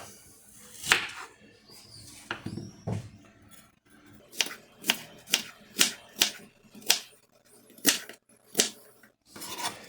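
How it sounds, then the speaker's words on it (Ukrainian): Sharp knife chopping onion on a board for stuffed peppers, a run of crisp, evenly spaced cuts close by, a few softer taps at first, then about ten distinct chops with brief pauses. "Зараз поріжемо так цибульку"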